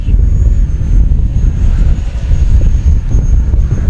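A Freewing L-15 64mm RC jet flies overhead, its steady, loud rushing roar carrying a thin high whine that holds throughout with some wind buffeting.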